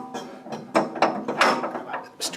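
A wrench clicks and ratchets while working on a DR field and brush mower, a close run of uneven mechanical clacks and rattles with a few louder clunks.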